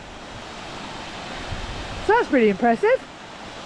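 Waterfall on the Glen Brittle walk on the Isle of Skye, a steady broadband rush of falling water running throughout, with a voice speaking over it near the end.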